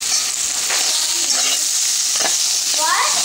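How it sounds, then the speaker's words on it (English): Bitter melon and potato frying in a pan for aloo karela, a loud continuous sizzle with occasional scraping stirs close up, no voices over it. "After little fry, put onion on this and keep frying."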